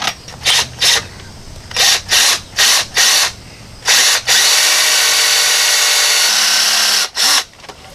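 On a 1995 Ford F250, a drill works at a broken exhaust manifold bolt in a string of short, sharp bursts, then a longer unbroken run before a final brief burst, loud and close.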